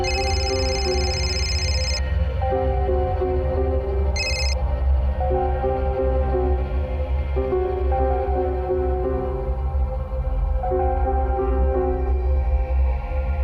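A phone rings with a repeating electronic ringtone, a steady melodic pattern looping every few seconds at a clear, even level.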